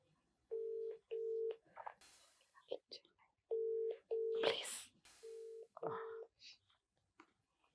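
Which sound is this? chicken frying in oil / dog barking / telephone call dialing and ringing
telephone call dialing and ringing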